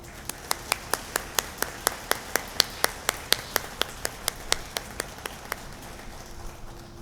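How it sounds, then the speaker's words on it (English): A small group of people claps in a steady, evenly spaced rhythm for award nominees at a school board of education meeting, moderately near and alone, fading slightly toward the end. "Please give another round of applause for our award nominees."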